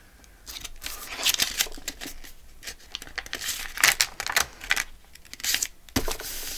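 Scissors trimming paper around a journal piece, a series of crisp snips and rustles coming in uneven bursts, close and fairly quiet.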